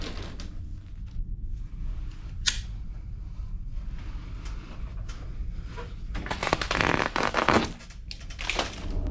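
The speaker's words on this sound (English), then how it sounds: "So now we're gonna have to take out of this insulation and free up this pipe so we can take it down." Insulation being pulled and torn off a chilled water pipe above a ceiling during leak repair, giving scattered crinkly rustles, scrapes and a few sharp tearing bursts, with a louder stretch of ripping near the end; no talking.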